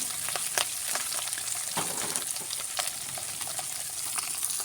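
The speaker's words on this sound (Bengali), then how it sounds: "মাছটা দিয়ে দিলাম তেলে" Fish fries in hot oil on a clay stove, a steady crackling sizzle with scattered sharp pops and spits, fairly close and continuous with no voices.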